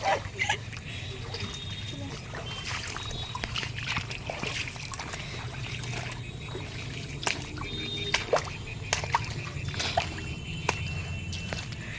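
Feet wade through shallow floodwater on a road, giving soft repeated splashes and sloshes under steady outdoor background noise, with a few sharper splashes near the end.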